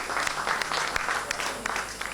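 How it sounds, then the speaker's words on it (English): An audience at a high school 15th anniversary function applauds to welcome a guest speaker to the microphone, the dense clapping continuous and fairly loud throughout. "Will you kindly give her a big round of applause and welcome her to the microphone at this time?"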